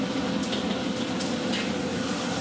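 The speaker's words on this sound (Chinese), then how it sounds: "提锅上灶开始炒菜。" Stir-frying in a wok on a stove at a small Wuhan eatery: a steady loud sizzle with occasional scraping stirs, continuous and close, no talk.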